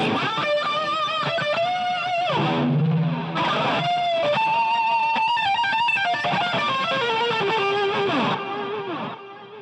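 Electric guitar played through a BOSS GT-8 multi-effects unit with an EQ or boost engaged, giving a loud, distorted tone of sustained melodic notes and bends that ring on continuously for nearly ten seconds with no voices.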